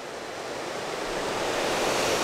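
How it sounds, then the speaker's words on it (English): A small hot spring waterfall pours directly into a river, making a steady, loud broadband rush of falling water that swells slightly, with no voices. "a little hot spring waterfall falling directly into the river."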